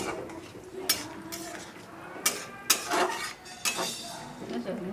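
A lid is set on a pot of lote (Bombay duck) fish curry, giving a few sharp metallic clinks and knocks close by over a low kitchen background, with speech in the room.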